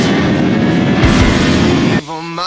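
A Bristol Assassin R400 motorcycle weighing 149 kilograms accelerates away with a loud, roaring engine that drops off sharply partway through, leaving a fainter tonal sound.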